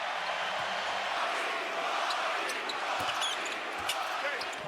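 A basketball arena crowd roars and chants through an NBA Lakers versus Nets game as a dense, continuous wash of voices, with faint commentary underneath.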